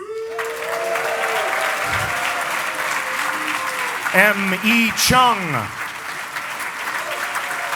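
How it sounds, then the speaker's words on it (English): Sustained applause from a convention audience at a PAX Prime gaming panel as panelists take the stage, a dense steady roar of clapping with cheers and whoops rising midway, while an amplified announcer's voice speaks over it. "Please welcome to the stage with a huge round of applause"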